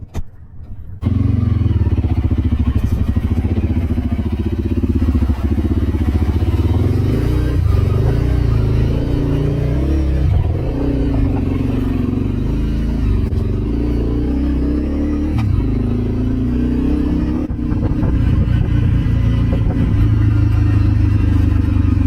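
A Honda CRF 300 motorcycle rides steadily along a road in Iceland, its engine droning close and loud throughout with slight shifts in pitch and some rattling clatter.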